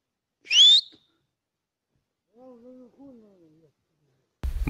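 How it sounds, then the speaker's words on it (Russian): A person whistles outdoors in cold weather with a numbed face, giving one short bright rising whistle, then two softer, lower wavering whistled tones a moment later, with a burst of rustling noise at the end. "Морда замерзла. Свищу с трудом."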